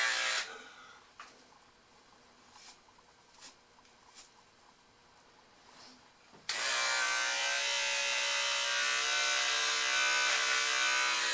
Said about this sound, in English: Some of my razor's starting to give out a little bit.